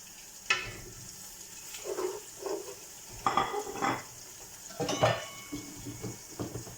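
Whole spices fry in a pan for a beef mince and potato curry, with a faint sizzle under intermittent clinks and scrapes of a utensil against the pan, moderately close.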